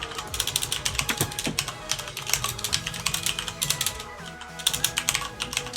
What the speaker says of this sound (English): I'm typing furiously